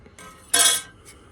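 Carbon steel stove panels for a KIHD stove being handled, giving a short metallic clink and scrape with one bright, louder clang in the middle, close by and free of talk.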